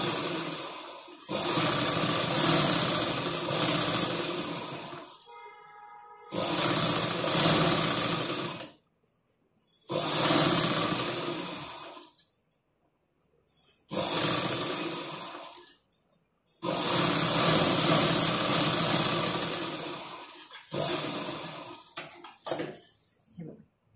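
Sewing machine running in several bursts of fast, whirring stitching as a blouse sleeve is sewn, each run lasting a few seconds and separated by quiet pauses, recorded up close.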